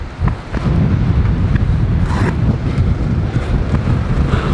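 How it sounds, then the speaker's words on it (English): Loud, gusty wind buffeting the microphone in Nottingham, a heavy roaring rumble that barely lets up strongly enough to break an umbrella, with no voices heard. "it's very, very windy"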